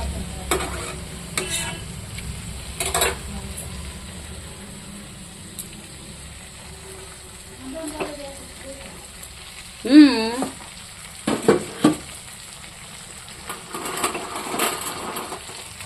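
Taro stems cook with dried fish in a dry pan with no water, giving a soft sizzle broken by stirring scrapes and clatter against the pan.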